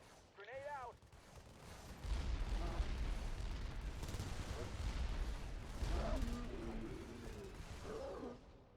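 Explosions and gunfire in a video game, a grenade blast followed by a sustained, rumbling barrage of shots and booms in the distance, with brief voices over the din.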